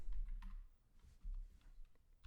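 Faint computer keyboard typing in a quiet lecture setting, a few soft, irregular key clicks with brief pauses, no voices.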